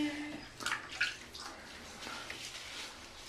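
A young child splashes in bathtub water at bath time. Sloshes and drips sound close by, with faint voices in the background.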